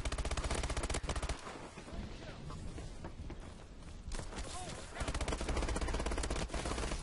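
Loud, rapid automatic gunfire rattles through a Call of Duty: Advanced Warfare multiplayer match, easing into scattered shots and movement midway before heavy sustained bursts return.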